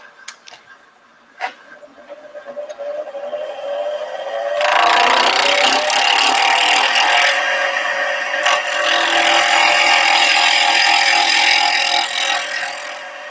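A wood lathe whines as it spins, then a wood gouge bites into the turning workpiece, giving a loud, steady, rough cutting hiss that carries on for several seconds up close.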